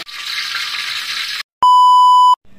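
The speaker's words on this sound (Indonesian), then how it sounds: "lanjut goreng ayam" Boiled chicken frying in oil makes a steady close hissing sizzle for about a second and a half, then falls silent; a loud sustained electronic beep follows.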